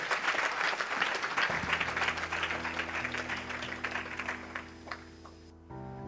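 Congregation in a church breaking into sustained applause, dense clapping that fills the room for several seconds, a sustained tone lingering beneath and the clapping thinning out near the end.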